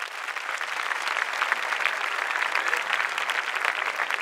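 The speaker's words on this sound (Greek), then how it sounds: "Δώστε μου ένα χειροκρότημα." Audience at a Greek stand-up comedy show clapping together in a dense, steady burst of applause that sustains at full volume for several seconds with no voices over it.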